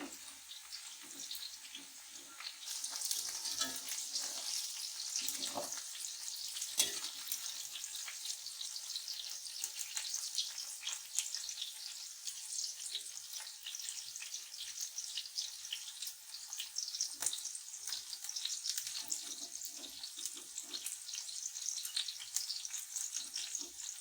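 Okra being lifted out of frying oil, a soft, continuous hissing sizzle with occasional clicks and scrapes, fairly quiet and even throughout with no voices.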